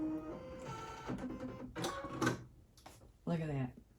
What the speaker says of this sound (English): It threads the needle.